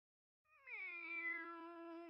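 A person imitates a cat's meow, a single drawn-out nasal meow rising and then holding steady before trailing off, close and clear against silence.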